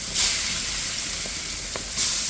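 Fish rubbed with turmeric and salt sizzles loudly in hot oil, a steady crackling hiss with a couple of sharper bursts, close and alone.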